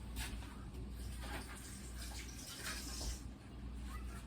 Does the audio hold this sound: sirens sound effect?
no